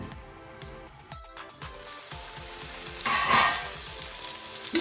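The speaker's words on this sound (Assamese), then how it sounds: "মাংসখিনি মই ভাজি থকা পুৰা 10 মিনিটমান হৈ গ'ল" Meat fries in a pan over a medium flame, with a soft crackling sizzle and repeated light taps. A brighter surge of hissing comes near the middle, and the sound is moderately close with no speech.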